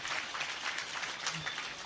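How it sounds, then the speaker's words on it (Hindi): An audience at a Brahma Kumaris spiritual gathering applauds, with dense, sustained clapping from many hands at moderate volume for the whole stretch, no voices over it. "तो सभी तालियां बजाएंगे भाई जी के लिए।"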